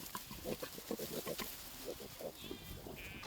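Woolly pigs on a straw bed at a farm at evening, giving a string of short grunts and bleat-like squeals at close range, with faint chirping higher up toward the end.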